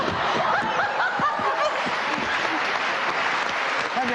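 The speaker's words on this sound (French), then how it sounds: "Applaudissements." Clapping rings out close by in a continuous, steady patter, mixed with chuckles and laughter and some voices talking over it.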